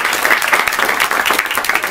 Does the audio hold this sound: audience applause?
yes